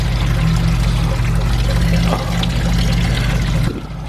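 Antifreeze coolant drains from the 2.4-liter engine of a 2002 Dodge Stratus, a loud, steady pouring stream of liquid that slackens near the end, close up with no talking.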